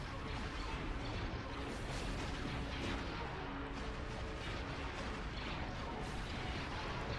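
Dense blaster and artillery fire in the Star Wars Empire at War space battle game, a continuous loud wash of overlapping shots, booms and mechanical rumble with no break.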